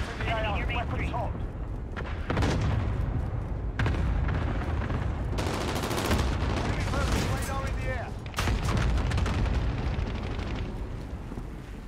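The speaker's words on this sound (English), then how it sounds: "Allied cluster strike inbound" Cluster strike explosions in Call of Duty: Modern Warfare land in a rapid string of loud, rumbling blasts and crackling bursts that keep coming over several seconds of chaotic battle noise.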